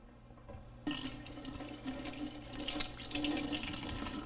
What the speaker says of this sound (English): Give all your vegetables a good rinse.